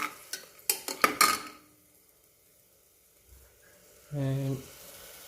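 Chopped tomatoes frying with browned onions in a pan for basmati dum biryani: a quick run of close scraping and stirring clatters, then near quiet with a faint sizzle, closing on a short humming tone.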